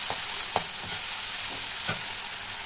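Spices being fried and stirred in a pan — ground coriander, cumin, turmeric and Kashmiri chilli powder — a steady hiss of sizzling oil broken by a few soft scrapes of the spatula, with no one talking.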